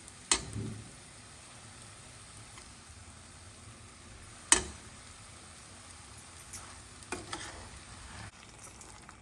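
Sugar is stirred into semolina sheera sizzling in ghee in a pan, giving a soft steady fry hiss with a few sharp scrapes and clinks of the spoon against the pan, fairly quiet with no talking.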